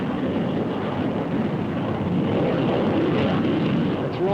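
Grumman F-14 Tomcat fighter jet roaring steadily and loudly during dogfight maneuvering, a dense continuous broadband engine rush with some wind buffeting, no voices.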